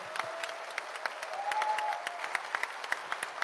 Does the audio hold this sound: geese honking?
no